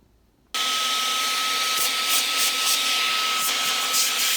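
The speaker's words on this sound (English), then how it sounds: "So I'm gonna try to vacuum up as much as I can, and I'm gonna do the same thing to the other side." A vacuum cleaner sucks dust from inside an opened MacBook, starting abruptly after a short quiet moment and then roaring steadily and loudly up close, with a thin whine running through it.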